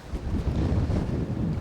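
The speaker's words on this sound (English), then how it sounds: "It's as windy as you're ever gonna see." Strong gusts roar and buffet the microphone in a rough, continuous rumble while fishing for flathead.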